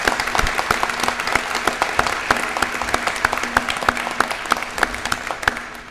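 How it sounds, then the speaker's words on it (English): Audience applause at an indoor nursing building topping-out ceremony, with sharp individual claps standing out over a dense crowd wash, near and lively for several seconds. "Could we just have another round of applause"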